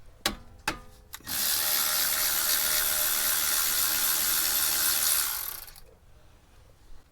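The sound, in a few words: 12mm socket ratchet removing caliper pins on Toyota Venza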